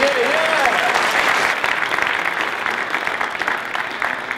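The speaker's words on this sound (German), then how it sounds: "Applaus für DJ Hebermann, meine Damen und Herren" Dense crowd applause at the opening ceremony of the International Year of Light, steady and fairly loud, slowly thinning toward the end, with a brief sliding tone at the start.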